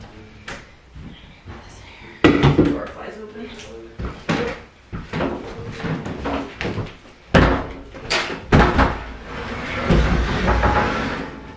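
Household doors and cupboards open and close with clunks and bangs while furniture is unpacked in a cabin, mixed with rustling, footsteps and people talking.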